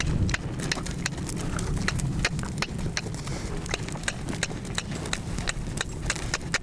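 A blind rescue horse's hooves pound in a quick, regular galloping rhythm, close and clear over a low rumbling background.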